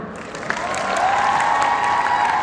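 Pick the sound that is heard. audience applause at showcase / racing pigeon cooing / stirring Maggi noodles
audience applause at showcase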